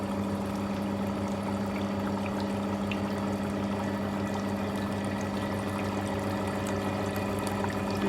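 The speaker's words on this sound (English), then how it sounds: "we are admitting air from down and water is coming from the top" Water pours and trickles down through the trays or packing of a demonstration distillation column while air is admitted from below, giving a steady bubbling, splashing flow with a constant mechanical hum beneath, no talk.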